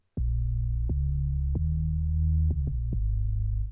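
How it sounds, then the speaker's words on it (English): A clean sine-like bass tone cut from the start of a single shared sample and stretched low, sustained steadily and struck anew about six times with short clicky attacks, loud and alone with no talking. "I just took that first bit where you get that pure tone and I use that as the start of my bass sound"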